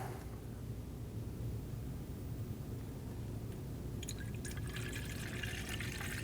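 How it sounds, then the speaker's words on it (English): Coolant pours from a bottle into the coolant reservoir of a 2012–2022 Volkswagen Passat, a soft continuous liquid gurgle with a brighter trickling splash toward the end, quiet and without talk. "Go ahead and drop in your coolant."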